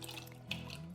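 A cup of water is poured for cinnamon roll dough, a soft, fairly faint trickle and splash heard close up with no talking.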